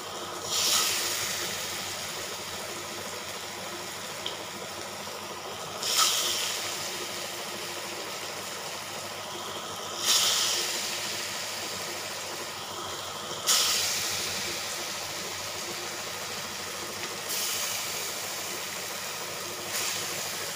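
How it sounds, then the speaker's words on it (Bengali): Pieces of lentil dhoka, a Bengali lentil cake, frying in hot oil: a steady close sizzle and hiss, swelling into louder spitting bursts every few seconds, with no talking. "এইভাবে আমি সবগুলোকে ভেজে নিচ্ছি।"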